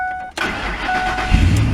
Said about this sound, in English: now I'm going to go ahead and start up the truck